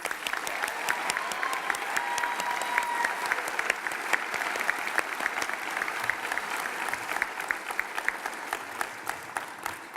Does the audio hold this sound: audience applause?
yes